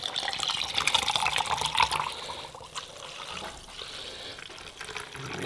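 Water pours steadily from a tap into a glass for mixing pre-workout powder, a continuous bright splashing stream that slowly softens as the glass fills, close and alone with no talk.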